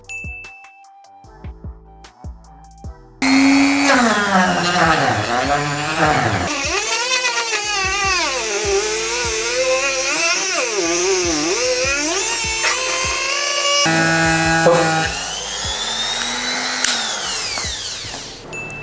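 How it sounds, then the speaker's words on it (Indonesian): A sandpaper abrasion test on a sneaker outsole from a 910 Fuuto Heritage shoe: a loud, close, whining motorized grind that starts abruptly after a few quiet seconds and wavers in pitch as pressure shifts. "Oke, kita tes amplas aja kali ya bareng-bareng."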